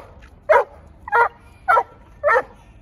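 A squirrel dog barks during a training session, four loud, evenly spaced barks about half a second apart, close to the listener with no talk over them.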